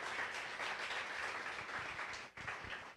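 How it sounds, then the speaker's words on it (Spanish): A church congregation claps together in steady, even applause that carries on with a brief dip near the end, moderately soft and without talk over it. "Demos un aplauso a ese texto de la Biblia."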